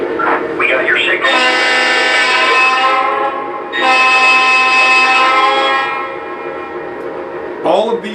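A Lionel LEGACY R-16 Sharknose model train sounds its automatic horn in two loud, sustained blasts up close, separated by a short gap, with brief faint noises at the start and end.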